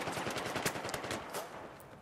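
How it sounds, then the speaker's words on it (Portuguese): Rapid automatic gunfire in Battlefield 4, a Gun Master match, with dense bursts of shots following one another closely throughout and no voices. "Ah, esse tiro é daqui, ó."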